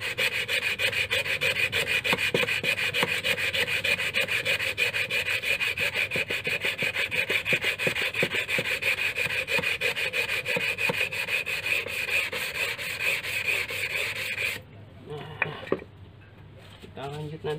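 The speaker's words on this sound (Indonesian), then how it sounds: "amplasnya agak halus, mungkin grade 400 sama gini terus sampai semua baret-baretnya hilang." Steady, continuous scratchy rasping of fine grade 400 sandpaper rubbed back and forth on a knife blade, close and even, stopping near the end with a few light knocks.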